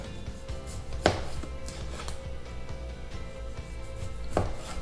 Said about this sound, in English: I'm simply just gonna cut them up